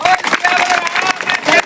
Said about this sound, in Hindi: हम हमारे हनुमान जी के लिए ताली तो कम से कम बजा ही सकते हो